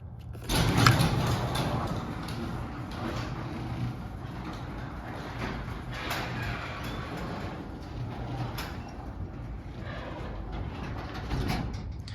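A Liftmaster 3280M garage door opener closes a CHI garage door, its motor and the moving door making a steady mechanical drone for about twelve seconds, with a slightly louder moment near the start.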